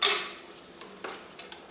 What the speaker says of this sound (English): Now I'm going to put the things in with the spoon,